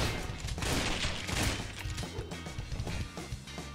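Rapid gunfire from the video game Wet as targets are shot on a challenge path, a dense burst of overlapping shots and impacts, loud and close, with no talk.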